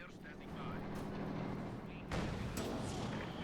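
Tank guns firing and shells striking armour in the Company of Heroes 2 real-time strategy game, booming cannon reports with a sharp impact around the midpoint over a rumbling battle backdrop, with a commentator's voice faintly present.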